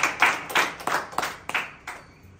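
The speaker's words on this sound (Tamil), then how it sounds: "கைத்தட்டி ஆண்டவரை மகிமைப்படுத்துவோம்." Church congregation clapping hands during a Holy Trinity Sunday service, about seven distinct sharp claps in a steady rhythm, moderately loud with no voices.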